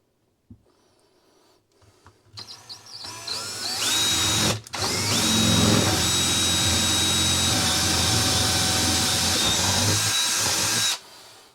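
A power drill bores an 8mm hole into a caravan's wooden worktop, with a few short starts and then a loud, steady whine held for about six seconds before it stops.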